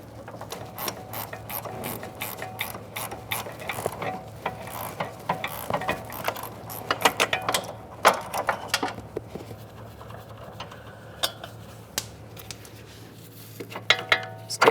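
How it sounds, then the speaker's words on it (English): A ratcheting wrench clicks in quick bursts as it loosens the nut on a front sway bar link of a 2013-2020 Ford Fusion. Close, crisp pawl clicks come in irregular runs with short pauses, and no one speaks. "You can use a ratcheting wrench if necessary."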